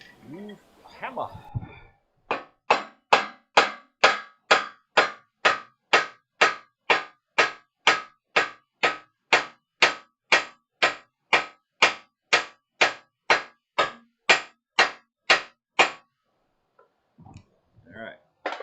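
Steady, evenly spaced hammer blows on metal, about two dozen sharp strikes in a regular rhythm, with a brief bit of voice before and after.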